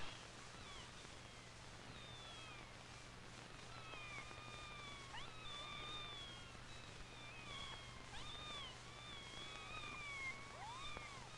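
Several kittens crying from inside a box, their thin high meows overlapping and repeating steadily throughout, quite faint against a low steady hum.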